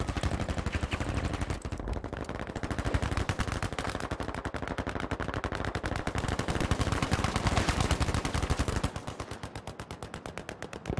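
Sustained rapid automatic fire from an M2 Carbine in the video game Battlefield V, a dense, loud stream of shots running almost continuously with brief changes in intensity.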